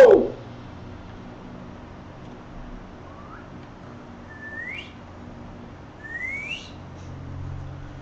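In the Sniper Elite 5 video game, a whistle sounds as a few short rising whistles, faint to moderate, over a low ambient background after an opening thump.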